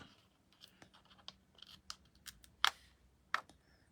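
Paper being snipped with scissors while shaping a small handmade gift bag, a string of quiet close cuts and rustles with two sharper, louder snips near the end.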